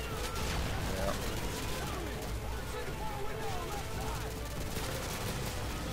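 Dense, continuous gunfire from a Call of Duty: Modern Warfare 2 match, loud rapid bursts and overlapping shots filling the whole stretch, with a voice talking underneath.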